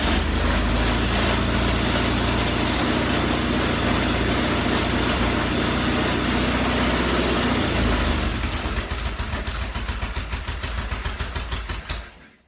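A Norton Commando 750 motorcycle engine runs loud and close with a steady deep idle, then settles into a slower uneven chuffing rhythm and fades out near the end.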